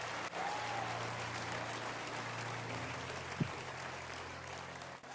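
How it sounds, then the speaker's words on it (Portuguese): A church audience at a live worship service applauds steadily, a soft, fairly distant wash of clapping that holds even throughout with a faint stray voice underneath. "Vamos aplaudir muito a Bri."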